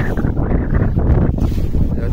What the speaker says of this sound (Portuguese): O vento agora tá se despertando